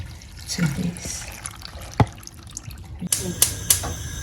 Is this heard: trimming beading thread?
no